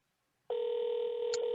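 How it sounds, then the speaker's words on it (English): A telephone ring tone cuts in abruptly after a moment of silence and holds as a clean, steady electronic tone while a call rings through. "And now it's ringing through."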